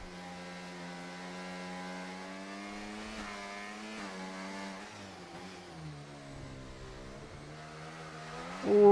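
Alpine race car in a racing video game, set at the Miami circuit, its engine holding a steady high-pitched drone with gear changes and pitch shifts throughout, ending in a brief louder burst.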